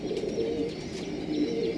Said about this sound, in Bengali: চার পিস পায়রাই পাট্টা পায়রা আছে